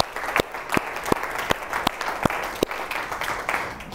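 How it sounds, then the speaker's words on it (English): An audience gives a round of applause for Ray Dandridge, dense clapping throughout with a few sharper individual claps standing out, fairly close and steady. "I think we should give a round of applause to Ray Dandridge"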